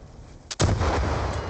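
RPG rocket launcher firing in Black Ops 2, one sharp blast followed by a loud, rumbling boom that trails off over a steady roar.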